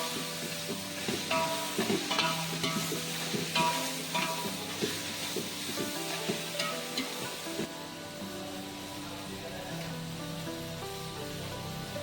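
Chicken washed with turmeric sizzles steadily in a pot while being stirred, with irregular scraping and knocking of the spoon over a continuous frying hiss, no talking.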